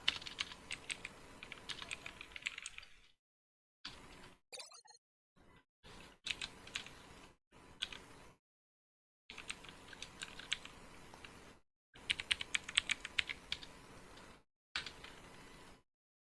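Bursts of close keyboard typing on a computer, quick clattering keystrokes broken by several short silent gaps.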